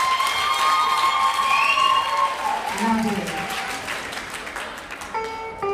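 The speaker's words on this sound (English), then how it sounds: "Let's give a round of applause to all moms in the house" A live crowd at a singing event, gathered to honour mothers, breaks into steady applause and cheering. A voice on the PA carries over the clapping, and a tone sounds near the end.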